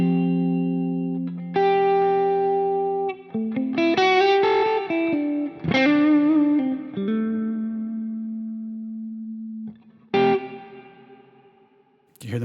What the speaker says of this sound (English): Do you hear the modulation in the reverb tails?